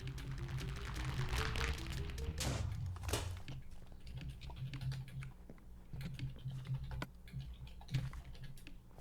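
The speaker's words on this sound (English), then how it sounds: "Keyboard noises. Keyboard noises, frantic typing." Rapid, frantic typing on a computer keyboard, a dense stream of close clicks and taps that runs throughout, louder at first while background music or talk fills the early seconds.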